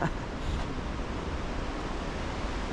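A broad, steady rush of a mountain river in the Himalayan Langtang region fills the whole clip, constant and even, running nearby.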